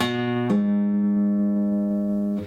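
A plucked acoustic guitar note on the fifth string rings out clearly, followed by a quick pull-off to the open fifth string that sustains and slowly fades.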